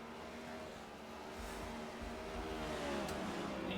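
Stock cars race on a short track in a cup series racing video game, with a steady engine roar throughout that swells slightly toward the end as the pack runs close together.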